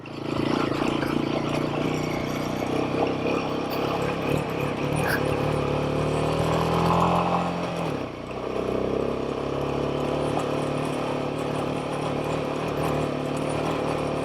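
Royal Enfield Himalayan 452 motorcycle climbing a Colorado mountain pass, a steady mid-pitched engine drone with wind rush running continuously and loud throughout, with a brief dip in the middle.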